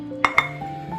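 Pieces of a gingerbread-themed gravy dish set are handled: two crisp ceramic clinks land close together near the start, followed by softer knocks over a faint hum.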